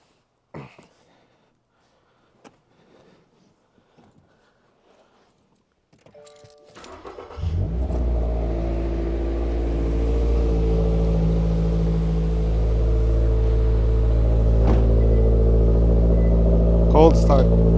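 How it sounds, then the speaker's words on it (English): A Toyota GR86 fitted with an Akrapovic exhaust cold-starts after several seconds of quiet with faint voices, catching with a loud bark and settling into a steady, throaty high idle that carries on to the end. "First start."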